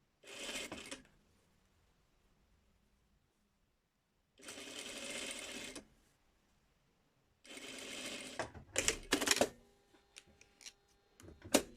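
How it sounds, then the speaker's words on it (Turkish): An electric sewing machine stitches bias binding along the neckline of a collar in three sustained bursts with pauses between, followed by brief clicks and handling knocks. "buraya kadar dikiyorum"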